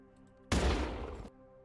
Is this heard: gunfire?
yes